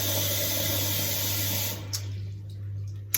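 Tap water runs hot into a sink in a steady, close rush that cuts off partway through, leaving a low hum and a couple of small clicks.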